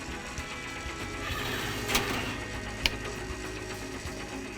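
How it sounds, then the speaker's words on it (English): The hopper motor of a Lil Orbits SS1200 donut machine runs with a steady mechanical whirring hum, broken by a couple of brief clicks, and no one speaking. "I'm going to turn on the hopper motor"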